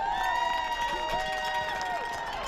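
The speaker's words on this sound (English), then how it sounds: "Let's give a round of applause." A high school football crowd at a Nashoba Tech vs Cathedral game gives a steady wash of cheering and applause for about two and a half seconds, with faint whistle-like tones riding over the noise.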